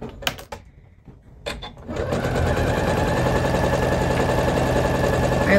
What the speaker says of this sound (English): I'm sewing all the way along.